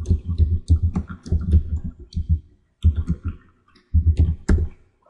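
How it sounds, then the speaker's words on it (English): Rapid, close clicking of computer keys as an address is entered on a keyboard, in quick bursts separated by brief pauses. "The next thing for you to do is type in your address here."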